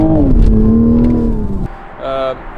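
A new Toyota Supra with a 3-litre engine revs loudly and close by, its pitch sweeping down through a quick gear change before a short burst of renewed revving, with speech-like sound partly over it.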